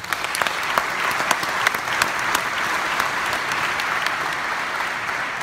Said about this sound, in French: n'applaudissez pas trop longtemps parce que vous allez rallonger mon temps de discours